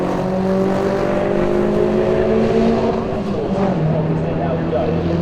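Race cars of the 750 Motor Club roaring along the Donington circuit toward Redgate Corner, several engines droning loudly and continuously at close range with shifting pitch as they pass, under a commentator's voice.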